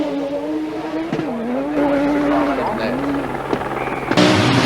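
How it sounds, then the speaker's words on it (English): An Audi Quattro S1 works rally car with a five-cylinder 20-valve engine and automatic gearbox races past, its loud engine note rising and falling through gear changes under an excited commentator's voice. "Now, contrast the new automatic gearbox works Audi Quattro of Walter Röhrl and just watch it go"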